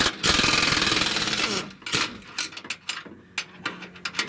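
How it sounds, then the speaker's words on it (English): Nut being removed from a Toyota Tacoma suspension bolt during a lift kit install: a loud, steady mechanical whirr of a power tool runs for over a second, then a series of sharp clicks and metallic clanks close by. "I'll just take off the nut and leave the bolt in place."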